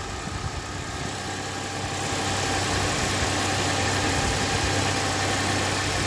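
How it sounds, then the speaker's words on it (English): A car engine idles steadily and evenly up close, a continuous smooth rumble that grows slightly louder partway through, with no talking. "Look at that, it's running smoothly."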